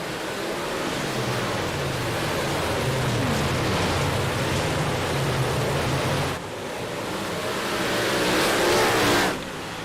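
Big Block Modified race cars racing on the Lincoln track, a loud, continuous roar of many engines passing close by, swelling and dipping briefly before surging again.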